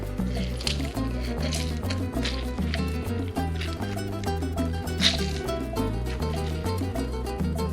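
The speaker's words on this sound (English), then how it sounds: "I squeeze it straight to the glass." Half a lime squeezed by hand into a mojito glass, soft wet squishing and dripping juice partly masked by steady background music.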